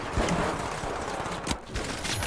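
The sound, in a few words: video game sniper rifle shot and grenade explosion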